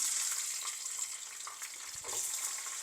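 Shallots, fennel seeds, dried chillies and curry leaves fry in oil over lowered heat for a Sri Lankan sambal. A soft, steady sizzle carries faint crackles and a brief stirring knock.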